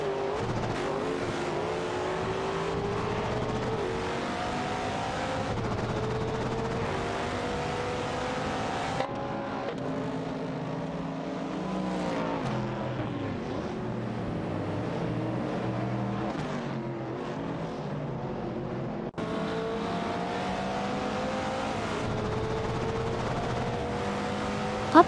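Race cars in a video game, including a 1970 Chevrolet Camaro and a Chevrolet Corvette C2, roar steadily with layered engine tones rising and falling as they jostle for position, continuous and loud throughout.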